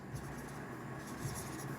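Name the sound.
writing on a board while teaching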